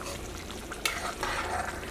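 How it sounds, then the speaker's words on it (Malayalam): Kerala-style chicken curry simmers with coconut milk, a steady close bubbling and hiss with one sharp clink of a spoon partway through. "അപ്പോൾ നമ്മുടെ ഒന്നാം പാൽ ഒഴിച്ച് കഴിഞ്ഞിട്ട് കറി നന്നായിട്ട് തിളച്ചിട്ടുണ്ട്"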